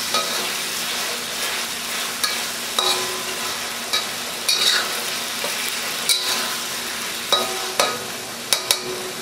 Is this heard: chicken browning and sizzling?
yes